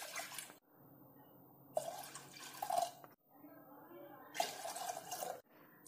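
Water pours from a vessel into a pressure cooker in two separate bursts, each a close, splashing gush of a second or so, with quiet pauses between.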